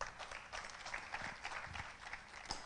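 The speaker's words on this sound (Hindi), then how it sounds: "जोरदार तालियां हो जाए रत्नेश को।" Applause from an audience at an RCM Business training session, a fairly faint, continuous patter of many hands sustained throughout with no one talking over it.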